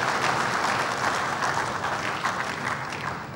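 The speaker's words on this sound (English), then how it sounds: "I think a round of applause." An audience at a felicitation ceremony gives a round of applause, a dense, steady wash of many hands clapping that holds evenly and fades slightly toward the end.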